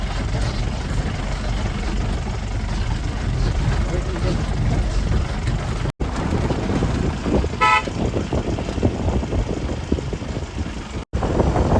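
A jeep drives along a scenic forest road in Coorg, making a loud, steady engine rumble and road noise throughout, with a short horn toot partway through.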